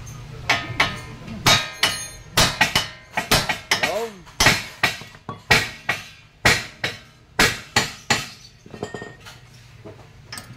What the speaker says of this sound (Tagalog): Isa, dalawa, hanggang 3 pukpok.